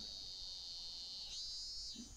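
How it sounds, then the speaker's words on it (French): Cicadas sing in a Japanese summer setting in the video game Kare Wa Kanojo, a steady, shrill, high buzzing drone that swells slightly partway through, heard alone without talk. "L'été était arrivé, les cigales chantaient comme d'accoutumé au Japon"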